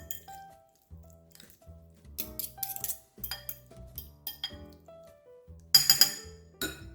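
Cauliflower-based keto potato salad is tossed in a bowl, giving light clinks and soft wet squishes in an irregular series that peaks in one louder clatter near the end, with a faint tonal hum underneath.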